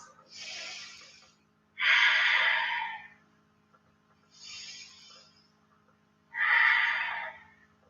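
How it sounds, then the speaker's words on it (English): During a restorative yoga class, slow deep breaths alternate between soft inhales and louder, airy exhales, four long breaths in a calm, even rhythm with no talking. "3 more breaths."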